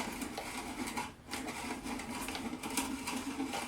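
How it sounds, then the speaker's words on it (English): A drill boring a 1-inch hole into the back of a wooden floating shelf, a steady, dense whirring grind that holds continuously at close range with one brief dip partway through. "And drill your 1-inch hole."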